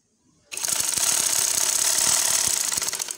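A sewing machine stitching lace onto a dupatta starts abruptly and runs steadily, a loud close mechanical whir with fast rhythmic needle ticking throughout.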